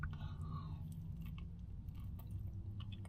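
Crunchy rotisserie chicken skin from Swiss Chalet is chewed close to the microphone, with repeated soft crunching and squishy bites over a low background hum.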